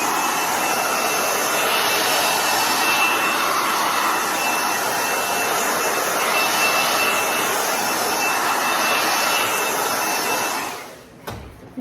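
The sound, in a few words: hairdryer blasting to dry paint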